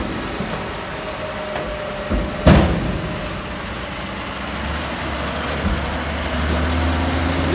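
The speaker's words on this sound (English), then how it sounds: "Got a 15 plate John Deere 6140R and a second season Hearn trailer" A 2015 John Deere 6140R tractor pulling a Hearn trailer passes by outdoors, its low diesel engine rumble building toward the end, with a sharp hiss-like burst partway through.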